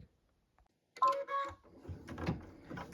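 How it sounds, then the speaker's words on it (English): An embroidery machine stitches a present detail on a blue package with white thread, starting with a beep and then a busy mechanical whir and clatter that runs on steadily at close range. "So what we're stitching now with the white thread is a beautiful present detail here on the blue package in Santa's sleigh"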